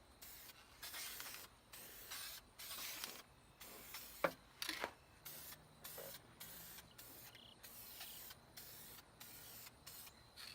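Spray paint misting in short bursts over a car engine bay and firewall, a series of soft hissing sprays separated by brief pauses, fairly quiet and close, with a faint click or two and no talk.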